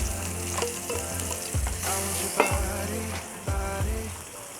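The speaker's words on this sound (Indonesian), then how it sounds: "Kita tumis sampai agak berubah warna, agak mulai layu, sampai wangi." Shallots, garlic and chili sauté in a hot pan, a bright steady sizzle broken by several clanking stirs of a spatula against the metal at irregular intervals.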